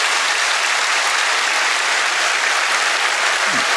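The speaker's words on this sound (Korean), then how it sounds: "여러분 박수로 한번 격려해 주시기 바랍니다" A church congregation breaks into steady, dense applause that fills the room without pause, with no speech over the clapping.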